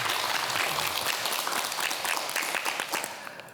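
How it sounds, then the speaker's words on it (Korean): Studio audience applause on a Korean morning talk show, greeting a neurology professor's lecture on dementia; steady, dense clapping fills the whole stretch at even loudness, tapering slightly at the end, with no talk over it. "큰 박수로 청해 듣겠습니다."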